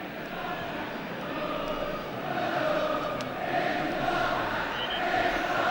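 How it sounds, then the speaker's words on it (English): Football crowd at Wembley Stadium during a 1978 England v Hungary international friendly, chanting England are back: a steady, loud mass of voices fills the whole stretch as one continuous roar without breaks. "Well, the crowd are chanting England are back."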